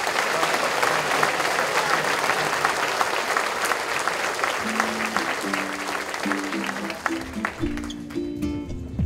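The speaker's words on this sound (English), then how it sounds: "Let's give these guys a round of applause." An audience at an annual meeting applauds steadily, a dense wash of clapping that thins toward the end as a few musical tones come in.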